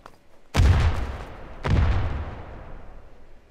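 Gunfire in the mobile shooter Standoff 2 during a competitive match: two loud, booming shots about a second apart, each with a long decaying tail, with no talk over them.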